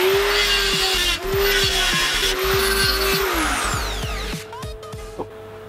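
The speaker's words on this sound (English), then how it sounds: "Die grinder time!" Pneumatic die grinder elongating bolt holes in a metal exhaust mount on a classic Mini project, a loud steady whine broken by repeated short dips as the tool is eased on and off, then fading to lighter scraping.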